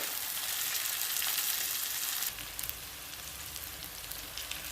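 Tomatoes fry in a pan for spicy eggplant bharit, giving a steady, close hiss of sizzling oil that softens slightly partway through, with no talking.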